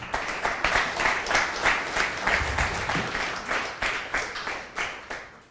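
Audience at a hackathon launch workshop breaks into sustained applause, many hands clapping together, loud at first, then thinning and fading away toward the end.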